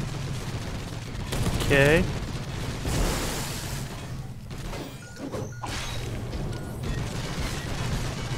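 Gunfire in the video game Space Hulk crackles in scattered bursts and thumps against Terminator armor over a constant low background hum, with a brief spoken word and a rising whine partway through.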